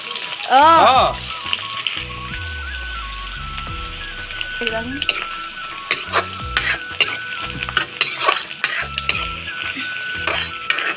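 Onions and ginger-garlic paste frying in oil in a pan for a fish curry, a steady sizzle with stirring scrapes and clatter, under background music with tonal notes.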